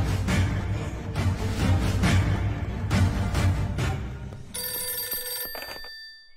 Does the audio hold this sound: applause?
no